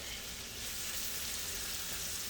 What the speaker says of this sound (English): we're going to throw these pork chops on there and we're going to cook them